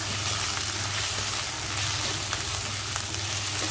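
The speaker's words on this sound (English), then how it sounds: "we will now again saute it till the raw smell of onion garlic goes away" Onion and garlic paste sautés in a pan, a steady close sizzle and crackle of frying with occasional soft stirring sounds, no voices.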